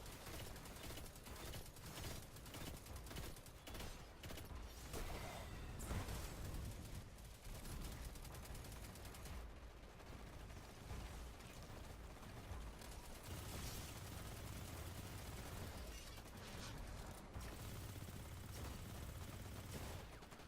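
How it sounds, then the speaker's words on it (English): Submachine gun fire in the video game Destiny 2 rattles in dense, continuous bursts with mechanical clatter, staying loud and busy throughout. "submachine gun doing this in the air"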